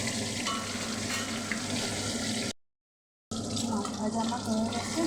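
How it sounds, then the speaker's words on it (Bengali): Pieces of rui fish coated in cumin and ginger paste fry in oil with a dense, crackling sizzle. The sound cuts to silence for a moment partway through and then comes back with the same hiss. "জিরে আদা বাটা দিয়ে মাছটা ভাজা হচ্ছে।"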